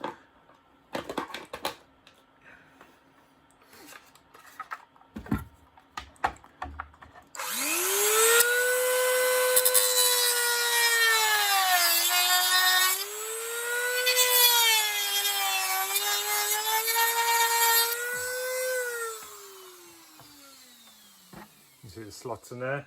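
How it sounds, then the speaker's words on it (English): A rotary hand tool cuts slots into a plastic car tail light housing, whining loudly and steadily with pitch dips as it bites, after faint handling noises and before it winds down. "So I'm just going to cut some slots into this."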